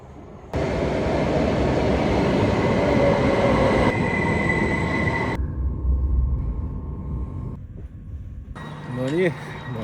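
Fast passenger train in Sweden heard from inside the carriage: a loud, steady rumble and rush of wheels and air that drops in level partway, with thin squealing tones and brief bits of background noise near the end.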